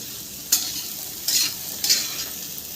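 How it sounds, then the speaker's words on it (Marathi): Diced pumpkin frying in hot oil with chilli powder for a dry sabzi, a steady soft sizzle broken by three brief louder bursts of hiss as the pieces are stirred or moved, close by with no talking. "तेलामध्ये फ्राय करते डांगर."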